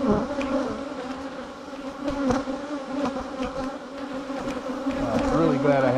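Honey bees buzz steadily around an opened hive full of brood, a dense, continuous droning hum that stays close and fairly loud throughout.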